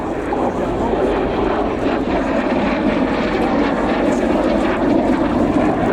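A Percival Provost Tutor takes off at the RAF Cosford airshow, its piston engine and propeller giving a steady, loud drone that holds through the whole stretch with broad roaring noise and no speech.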